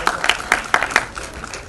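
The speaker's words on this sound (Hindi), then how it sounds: "शिल्पा जी के लिए जोरदार तालियां हो जाए" Brief burst of audience clapping for actress Shilpa Shetty at the Aa Gaya Hero film trailer launch, a handful of distinct claps fading quickly, with faint voices underneath.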